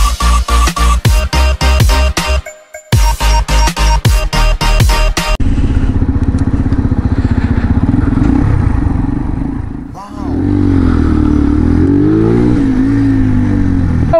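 A motorbike running on reserve fuel, its engine sputtering: rapid loud popping bursts with a brief cutout, then a steady rough running drone and revving swells, heard very close with talking over it.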